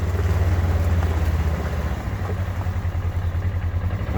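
A 2018 Polaris Ranger 1000XP UTV with an ECU upgrade and clutch kit, its engine running close and loud as a deep, steady drone under throttle, with a rhythmic pulsing that eases slightly partway through.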